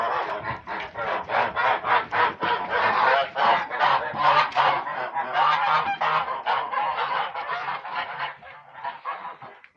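Domestic geese honking, a loud, continuous run of rapid repeated honks from a close flock, with no talk.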